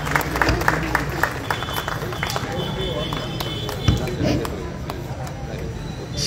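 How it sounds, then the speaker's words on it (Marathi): An audience claps together at a lecture series event, a dense, steady patter of many hands throughout with crowd murmur beneath. "सर्वांनी त्या ठिकाणी टाळ्या वाजवायच्या आहेत."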